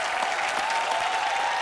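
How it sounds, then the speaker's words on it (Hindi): A studio audience on a Hindi comedy talk show breaks into loud, sustained applause for an arriving guest: a dense, even wash of clapping that stays strong throughout the short span. "जोरदार तालियां"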